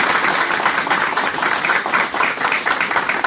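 An audience at a talk applauds loudly and steadily, a dense, continuous wash of many hands clapping close by for several seconds with no voices over it.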